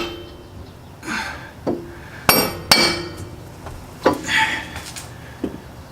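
Light metal taps on a bolt being driven through the hole of a lower control arm skid plate on a Jeep Wrangler, a few sharp clinks spaced irregularly over quiet shop background.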